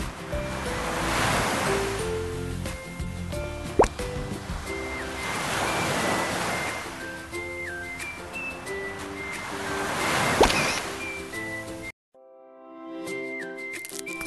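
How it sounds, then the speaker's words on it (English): Rolling ocean waves washing onto a beach in the game Magic Paper Doll: repeated swells of surf that rise and fall in slow cycles under a light melodic music track, with a brief drop near the end. "Warm sunshine, soft sand, rolling waves."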